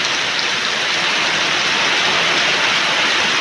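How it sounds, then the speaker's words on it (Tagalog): A steady, loud roar of heavy rain drumming on surfaces, constant and unbroken throughout. "ang lakas na naman po ng ulan"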